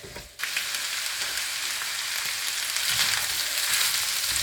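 Peas sizzle and fry steadily in a hot pan for a Punjabi lamb samosa filling, a continuous bright crackle that starts abruptly and holds at an even, close level with no talk.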